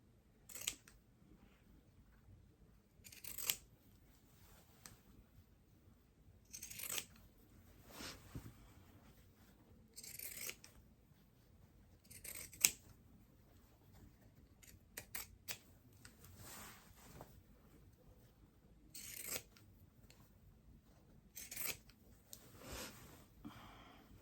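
Sharp scissors snip through shirt fabric while a New Look 6543 V-neck shirt is cut out for sewing, giving quiet, intermittent cuts spaced a few seconds apart, with no talking.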